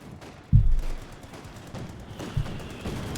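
Machine gun fire in Company of Heroes 2 sounds as two loud, punchy bursts, the first and heavier near the start and a shorter one later, with a low rumbling battle backdrop in between.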